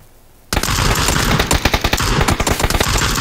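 Rapid bursts of automatic gunfire crackle loudly and continuously in a squad-based shooter game, with dense overlapping shots and sharp individual cracks standing out over a sustained roar of fire.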